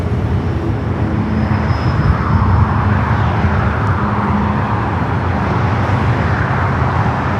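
A Delta Airlines Boeing 767-300ER, 31 years old, roars steadily at LAX airport, a loud continuous jet engine rumble that holds at full strength throughout without any talk.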